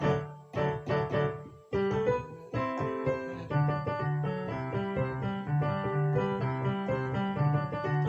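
A piano plays a bouncy, repeating makossa pattern with a steady bass and syncopated chords, close and clear with no voices.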